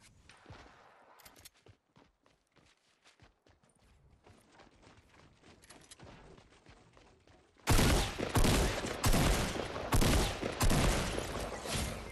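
Gunfire in the Fortnite video game, a loud dense burst of shots that suddenly dominates after a quieter stretch of scattered clicks and footsteps-like taps.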